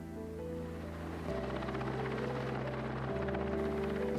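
A helicopter carrying a rescue system runs steadily and loudly close overhead, its droning rotor and engine filling the whole stretch with a continuous low whir that shifts pitch partway through.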